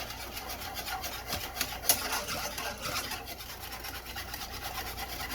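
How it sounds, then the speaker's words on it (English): Homemade gravy made from pan drippings is whisked steadily, giving a continuous soft rhythmic scraping and swishing against the pan at low volume, with no voices. "I'm just going to continue whisking."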